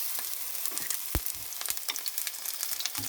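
Shellfish frying in hot oil for hoy tod, a steady crackling sizzle with scattered sharp pops and one louder spatter, heard alone at close range.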